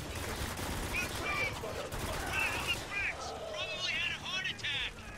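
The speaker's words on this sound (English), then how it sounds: "shots fired at Riggs just because he's old" Gunfire in the military shooter game Spec Ops: The Line, a steady clatter of distant rifle shots and bursts under a noisy battlefield bed, with shouted voices and whining sounds rising toward the end.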